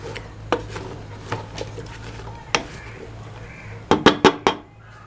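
Metal clinks and a cluster of sharp clatters as a lid is set onto a cooking pot of bottle gourd curry, with lighter kitchen taps earlier.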